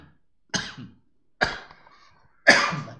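Three separate coughs, each a sharp burst that fades quickly, spaced about a second apart, close and fairly loud, with quiet between them.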